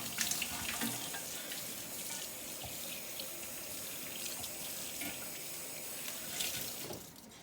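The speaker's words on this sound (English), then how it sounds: "So what I'm going to have to do is wash it by hand" Running water from a very warm tap pours steadily over a milking bucket lid being washed by hand in a sink, a continuous close splashing hiss with small clatters as the lid shifts under the stream.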